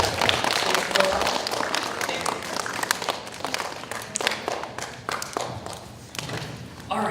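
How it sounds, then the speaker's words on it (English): A museum presentation audience claps for several seconds, a busy burst of applause with thumps and taps that gradually thins out. "Let's give them a round of applause."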